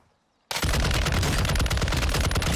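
The RAL LMG light machine gun in the video game Warzone bursts into fire after a brief near-silence, then hammers out a loud, continuous, rapid stream of shots to the end.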